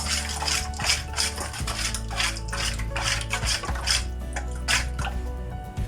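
Eggs and salt are whisked in a bowl with melted margarine for a savoury tart, producing quick repeated wet clinks and sloshes of a utensil against the bowl, close and steady, with no talking.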